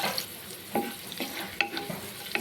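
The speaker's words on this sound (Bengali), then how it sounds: "রসুনটাকে হালকা করে একটু ভেজে নেব।" Chopped garlic frying lightly in leftover egg-frying oil for an egg curry, a low steady sizzle broken by a few sharp spoon scrapes and taps against the pan.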